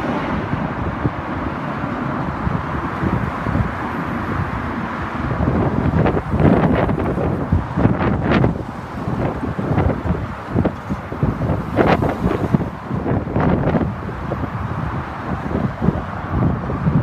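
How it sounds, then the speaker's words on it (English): Strong gusty wind buffets the microphone in continuous rushing bursts, rising and falling outdoors with no talking. "Man, it is really windy out here."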